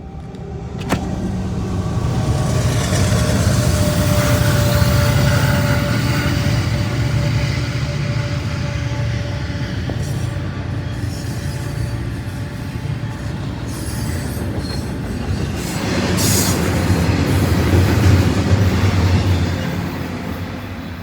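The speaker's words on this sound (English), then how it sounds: "this Norfolk Southern Intermodal with an AC-44 liter and SD70M-2 trailing jump" A Norfolk Southern intermodal freight train, led by an AC44 locomotive with an SD70M-2 trailing, roars past close by, loud and steady, with rumbling wagons and a thin wheel squeal running through it.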